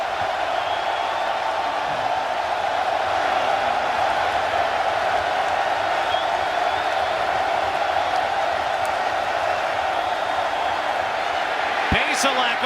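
A hostile stadium crowd at a Kentucky football game in Lexington roars in a dense, continuous wash of noise, with a sharp bang near the end.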